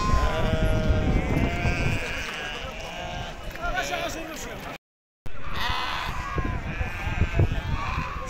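Sheep bleat repeatedly at an open-air livestock market in Morocco, loud and close, with hoof clatter and market chatter throughout and a brief gap of silence midway.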